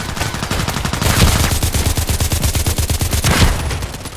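Rapid automatic gunfire from a Contract Wars match rattles nonstop, loud and close. Dense bursts run together with a few heavier swells along the way, and no voices are heard over it.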